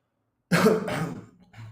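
A single person coughs close to the microphone after a moment of silence, a harsh burst of two quick coughs followed by a softer throat-clearing tail.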